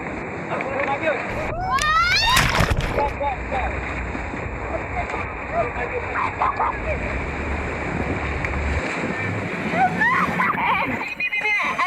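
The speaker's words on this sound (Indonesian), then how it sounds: "perahu mereka tiba di sebuah jeram yang paling ganas di Sungai Citarik" Rushing river rapids splash around a rafting boat on the Citarik River, a dense continuous wash of water and wind noise with bursts of shouting voices.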